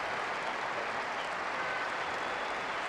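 In the PES 2012 football video game, a stadium crowd applauds a goal, producing a steady, dense wash of clapping and cheering that holds at an even level throughout with no talk.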